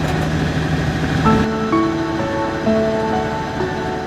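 Rough sea waves surge and wash around a skate-fishing boat working off Heuksando's Yeri port, a continuous broad roar of water with steady tonal sounds layered above it.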